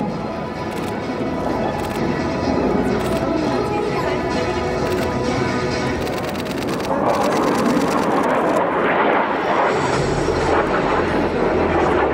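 Black Eagles aerobatic jets of the Republic of Korea Air Force roaring past at the Singapore Airshow, a loud continuous engine rush that swells and shifts in tone, with an announcer talking over it.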